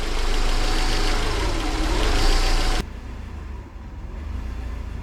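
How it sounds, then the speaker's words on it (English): Mercedes engine with KE-Jetronic fuel injection idling steadily, then the revs abruptly drop to a lower, rougher idle as the sensor plate is pressed down. "As I press with my index finger the sensor plate, the revs must fall down"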